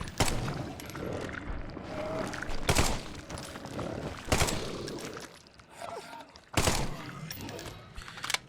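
Gunshots from a fast-firing gun in the video game The Sinking City ring out as loud, sharp cracks spaced a second or two apart, over a rumbling, murky game background.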